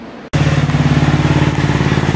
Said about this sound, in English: revving the go-kart